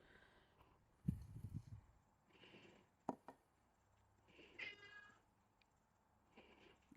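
A pet cat meows several times indoors, short faint calls spaced out over a quiet background, with a few soft knocks between them.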